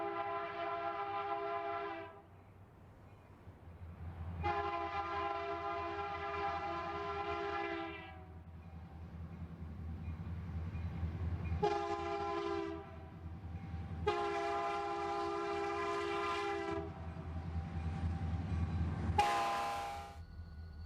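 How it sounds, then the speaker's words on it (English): A Santa Fe SD40-2 diesel locomotive leading a BNSF westbound stack train sounds its multi-chime horn at dusk on the Mojave mainline in the desert, several long loud blasts and a short final toot over a low engine rumble. "Dusk at Ibis reveals a westbound stack train led by Santa Fe SD40-2 5057."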